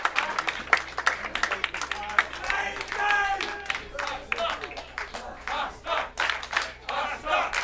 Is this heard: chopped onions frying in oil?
no